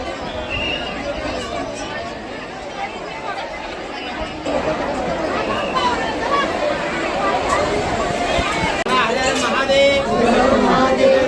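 Dense crowd chatter at Jejuri temple during a family jagran gondhal, many voices babbling close by and swelling slightly louder as the gathering grows.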